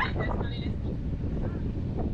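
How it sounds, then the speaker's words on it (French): Steady wind roaring and buffeting on a sailboat at sea off the French Atlantic coast, a constant low rumble filling the clip with no pauses. "on a l'air d'avoir un peu de vent"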